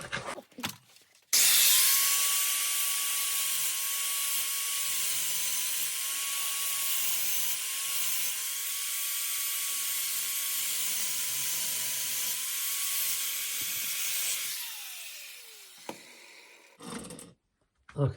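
A power tool whines in one steady, high, sustained cut as it grinds grooves during a C-10 Turbo 350 transmission conversion, then winds down, followed by a few clunks.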